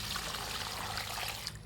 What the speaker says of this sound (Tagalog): Lagyan natin ng 2 tabo na tubig.